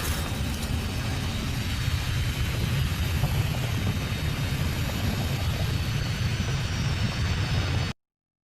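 A fighter jet roars in a loud, steady broadband rush that holds for about eight seconds, then cuts off abruptly to silence.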